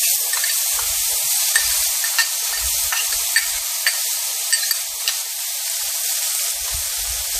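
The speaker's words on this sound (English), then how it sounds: "Next thing we're going to add is our onion and minced garlic." Onion and minced garlic frying in a pan over medium heat, with a continuous close sizzle and occasional soft clinks as the mixture is stirred, no voices.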